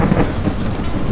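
A loud thunderstorm in the video game Teardown, with heavy rain pouring and a rumble of thunder filling the short stretch without any voices.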